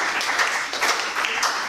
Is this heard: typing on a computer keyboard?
no